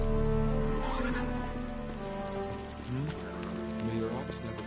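Roach, the horse in The Witcher 3 video game, whinnies loudly with a long, wavering neigh over a steady backdrop of rain and faint hoof clatter, and a voice is briefly heard.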